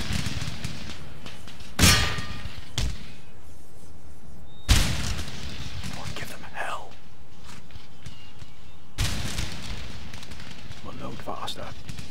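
Musket volleys in Empire Total War, three sharp broadband cracks spaced a few seconds apart, each followed by a short rumbling tail, over a steady battlefield background with speech.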